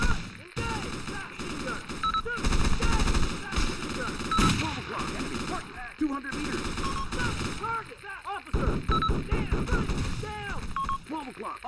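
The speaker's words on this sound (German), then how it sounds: "O'clock, enemy machine gunner, 200 meters." Enemy machine gun fire in a shooter game, a dense, continuous spray of loud automatic bursts and nearby gunshots layered over battle noise, with someone shouting in the middle of the fight.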